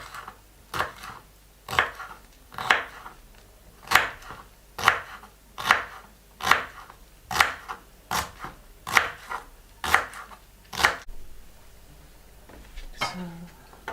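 A knife chops celery with its leaves and garlic on a cutting board, about a dozen sharp, evenly spaced close knocks in a steady rhythm, then a short pause and one last lighter cut.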